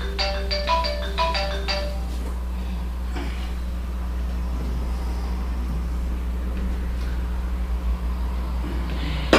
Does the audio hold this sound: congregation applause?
no